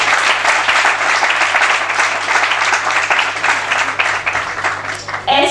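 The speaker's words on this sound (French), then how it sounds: "Est-ce que vous pouvez applaudir," An audience at a youth citizens' forum panel applauds, sustained dense clapping from a crowd that stays loud for several seconds and then thins at the end.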